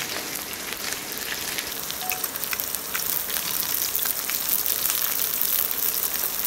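Finely chopped shallots, around fifteen to twenty, fry steadily in hot oil, giving a dense, continuous crackling sizzle that stays even and close throughout without any talk.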